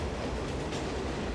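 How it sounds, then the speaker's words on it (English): Subway train bearing down on the track, a steady low rumbling roar with faint rail clatter throughout the short stretch, with no voices. "Witnesses try desperately to save him as a train bears down."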